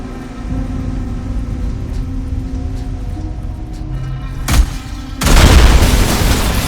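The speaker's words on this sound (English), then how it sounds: "The glass won't take a promethium explosion." In the sci-fi shooter Alien Rage, a promethium explosion erupts as a sudden loud roaring blast of noise after a steady mechanical hum, lingering as a dense rumble.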